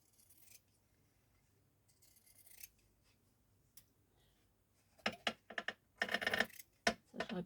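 Scissors cut paper for a simple wedding album: quiet, scattered snips at first, then a cluster of louder, crisp cuts in quick succession near the end, close by and with no talking.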